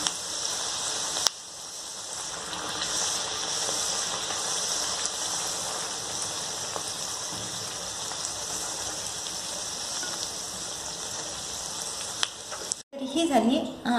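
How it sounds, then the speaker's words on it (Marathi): Potato puris deep frying in hot oil, a steady close bubbling sizzle that runs continuously with faint clatter, ending in a few brief handling knocks. "अशा प्रकारे आपण सर्व पुऱ्या तळून घेऊयात"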